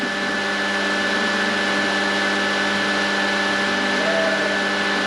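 A pump runs with a continuous mechanical drone and a faint steady whine, unchanging throughout.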